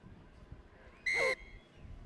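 At a rugby match, a referee's whistle gives one short, sharp blast that stands out over the quiet crowd background.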